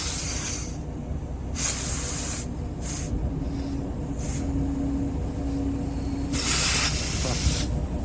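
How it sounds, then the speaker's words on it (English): Air hissing out of a blown air hose on a 1964 Kenworth logging truck, a steady low hiss with several louder spraying bursts over a constant engine-like drone. "I got another blown air hose right there."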